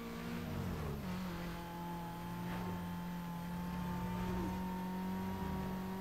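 A car driven in the racing video game Need For Speed Most Wanted gives a steady engine drone with slight pitch shifts as it cruises along, continuous and moderately loud with no talk.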